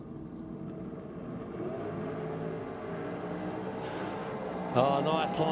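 A drag racing car launches at Sydney Dragway during a NSW Championship round: a loud, steady engine drone builds, then surges sharply near the end, with a commentator's voice running over it.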